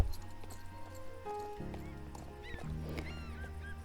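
A quarter horse trotting in the Star Stable Online video game, with rhythmic hoof clip-clops and a brief whinny, over game music with faint bird calls.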